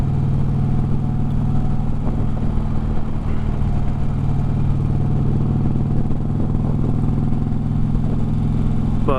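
A motorcycle engine fitted with a new exhaust runs steadily throughout, a constant low rumbling idle or cruise with no clear revving, close to the microphone.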